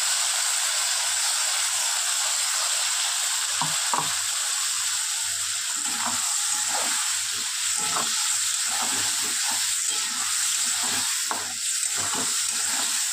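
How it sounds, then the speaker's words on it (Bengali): Onion, garlic and tomato paste frying in a pan for potol chingri, a steady close sizzle and hiss with repeated scraping stirs of the spoon through the paste. "পেঁয়াজ রসুনটা ভাজা হয়ে গিয়েছে"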